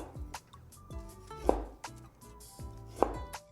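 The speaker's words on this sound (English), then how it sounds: "We'll cut the pork belly into roughly 1/4-inch thick slices." A knife slices pork belly into quarter-inch pieces for Cantonese twice-cooked pork, with close, crisp cuts landing on a board in an unhurried rhythm and two sharp heavy strikes standing out over a quiet background.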